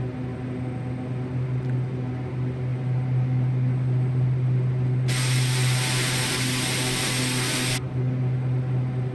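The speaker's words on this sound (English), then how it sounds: "Let's go ahead and suck up the gear." Landing gear retracting on a Beechcraft King Air 350 in Microsoft Flight Simulator 2020 just after takeoff, a mechanical whir and clunk over the constant loud drone of the turboprop engines, with a burst of broad hiss midway.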